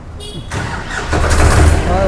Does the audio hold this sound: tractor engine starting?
yes